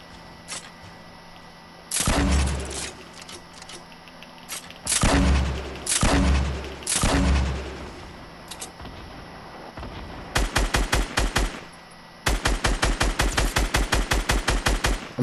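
Video game gunfire heard alone and fairly loud: several heavy single shots or short bursts with low booms, then rapid, evenly spaced automatic fire in two long runs toward the end.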